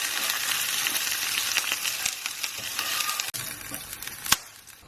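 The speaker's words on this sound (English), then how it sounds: "We're just going to cook our onions for a few seconds just to soften it a bit" Onions sizzling and frying in a hot oiled pan for a beef and onion stir-fry, a steady dense crackle with occasional utensil clicks and one sharp clink near the end.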